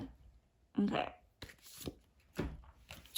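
Tarot cards are shuffled and drawn in a few quick, crisp bursts of riffling and slapping, close by, alongside a speaking voice.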